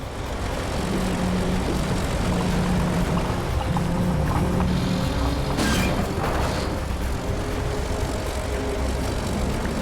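A heavy tow truck's 140,000-pound capacity winch pulls under throttle at a highway rock slide: a loud, steady engine roar throughout, with a brief surge midway, and no voices.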